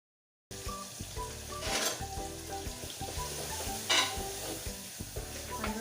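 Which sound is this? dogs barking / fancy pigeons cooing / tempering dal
tempering dal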